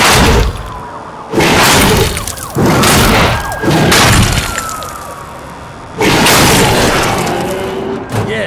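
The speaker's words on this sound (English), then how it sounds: "a big explosion" A huge explosion in The Darkness 2 erupts as repeated loud, crashing booms with shattering, breaking debris, several heavy blasts separated by brief lulls, close and overwhelming.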